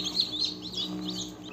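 Many young village chicks chirp in a dense, continuous chorus of high overlapping peeps, close and steady, with a low hum underneath and no talking.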